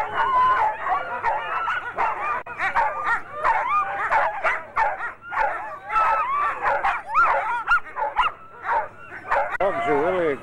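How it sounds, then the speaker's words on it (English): A pack of sled dogs in Churchill, Canada barks, yips and whines continuously and eagerly before a sled ride, overlapping calls packed densely together at close range. "Dogs are really excited."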